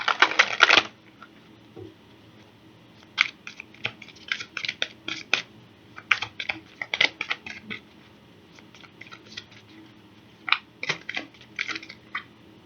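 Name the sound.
shuffling a deck of cards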